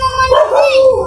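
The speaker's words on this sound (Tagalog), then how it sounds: "pasensya na sa ingay sa aso mga idol." A single close, loud dog bark with a whining, yelping tone, brief and sharp, cutting through the background.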